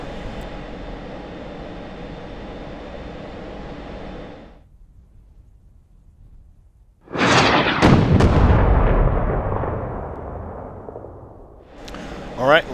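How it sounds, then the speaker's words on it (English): In the DCS F-16C flight simulator, a missile strikes its ground target with one loud, close explosion that rumbles and fades over several seconds. It follows a steady engine drone, and a faint second burst comes at the end. "let's wait for the missile to hit. Oh yeah, that's a hit."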